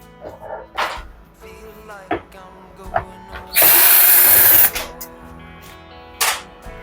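A power drill whirs in one loud burst of about a second, removing screws from a Siemens 7 kg dryer, amid scattered clicks and handling knocks before and after.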